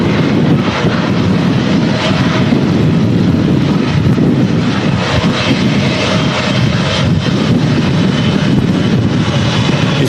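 A passenger jet taxis out at Manchester Airport during a storm with strong crosswinds, its engines giving a loud, steady roar that fills the whole stretch with constant broadband rumble; no one speaks.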